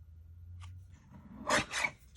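Paper being trimmed for a Stampin' Up! Halloween fun fold card, a low hum and then two quick, close rasping cuts near the end.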